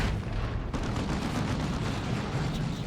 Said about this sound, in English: Was that a big explosion from Bio Meltdown?